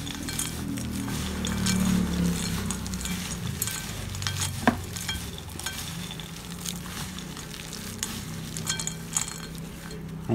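Stirring a homemade granola mixture in a bowl, a steady scraping and rustling of oats close by with occasional light clinks, continuous for about ten seconds with no talking.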